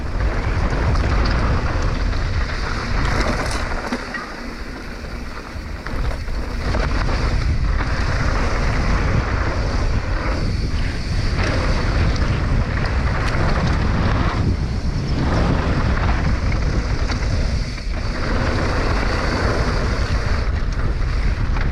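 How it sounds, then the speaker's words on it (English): Strong wind buffeting a microphone during a mountain bike ride, a loud continuous roaring rush with gusty dips that carries on for over twenty seconds, with no talking. "the wind was sketchy on that one"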